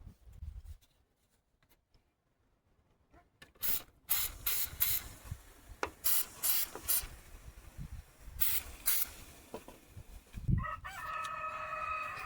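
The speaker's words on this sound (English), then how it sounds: "You can spray them with WD-40 or something similar." WD-40 aerosol can sprayed onto wheelchair lift hydraulic hoses, a run of sharp close hissing bursts of varying length after a quiet start, ending with a rattle and a brief tonal noise.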